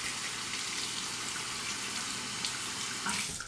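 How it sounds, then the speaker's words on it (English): Tap water runs steadily into a sink while a razor is rinsed of beard residue and shaving cream, a close, continuous splashing stream with small clinks near the end. "Let's rinse that."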